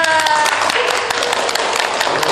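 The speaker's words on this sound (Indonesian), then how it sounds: "Tepuk tangan dulu dong." Audience applause at a casual hotel talk session, a dense wash of many hands clapping continuously at moderate loudness with some voices mixed in.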